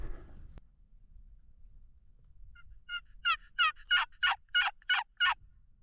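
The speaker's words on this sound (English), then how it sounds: "Eventually he gobbles back to me." A wild Rio Grande turkey gobbles in the Colorado countryside, a run of about seven sharp, rattling bursts at a steady rhythm that sounds fairly near, with a soft earlier call before it and quiet open air underneath.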